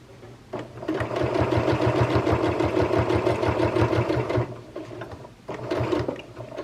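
A sewing machine stitches through two layers of quilting fabric in a steady, fast mechanical whir, runs for several seconds, pauses briefly, then starts again. The sound is close and loud, and no one speaks.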